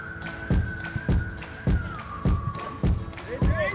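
Soccer ball kicked repeatedly during a girls' youth soccer game, a series of sharp thumps roughly every half second, mid-distance, with a whistle-like tone and crowd chatter in the background.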